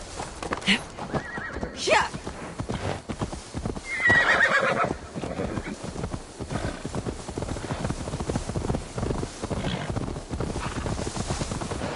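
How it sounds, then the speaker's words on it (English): A horse in Assassin's Creed Valhalla whinnies loudly near the start, with a steady clip-clop of hooves running throughout, mixed with game sounds and talk. "Now to deliver Magni his horse."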